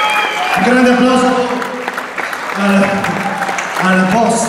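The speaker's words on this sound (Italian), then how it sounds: "Un grande applauso" An audience at a progressive rock concert applauds and cheers, a broad wash of clapping running under an amplified announcer's voice that speaks over it throughout.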